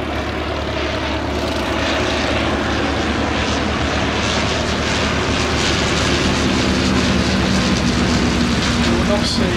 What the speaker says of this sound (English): The third aircraft that's joined it is effectively the Spitfire of the First World War, it's the SE-5A.